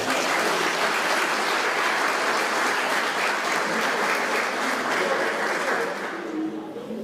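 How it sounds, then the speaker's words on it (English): Sustained applause from a large audience at a donor appreciation reception, steady and full for several seconds before tapering slightly at the end. "Let's give a hearty applause for Dr. Blakely and Dr. Calvin Johnson."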